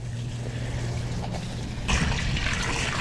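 Water pours into a tub of crawfish being filled for purging, a steady splashing trickle that suddenly grows louder and more hissing partway through.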